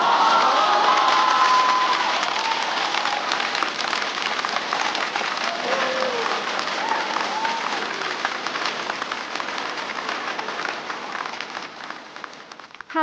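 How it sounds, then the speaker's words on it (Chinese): A studio audience at a stand-up comedy show applauds to welcome a comedian: sustained, dense clapping from a large crowd that stays loud throughout and fades slightly toward the end. "掌声欢迎粽子"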